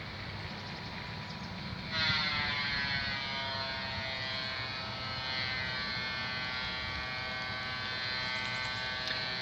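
A circular saw whines in a steady high buzz, its pitch rising a little after a few seconds and then holding for a long continuous run.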